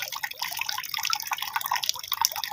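Water drips and trickles from a tap converted from an old pump, a quick run of small splashing drops close by.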